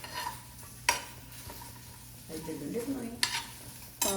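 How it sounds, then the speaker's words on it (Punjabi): Okra dry-roasts without oil or ghee in a pan over a gas stove, a faint background hiss punctuated by a few sharp clicks and scrapes of a spatula against the pan, close and quiet with no voices. "ਲੋ ਜੀ ਉਧਰ ਬਿਨਾ ਤੇਲ ਘਿਓ ਤੋਂ ਆਪਾਂ ਭਿੰਡੀ ਰੱਖੀ ਹੋਈ ਹੈ ਗੈਸ ਚੱਲ ਰਹੀ ਹੈ"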